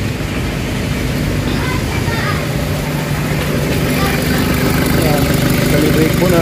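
An Isuzu Trooper engine runs at a steady idle, loud and close throughout. The vehicle has a transmission fault with no reverse or drive engagement, and a voice may be speaking over the engine noise.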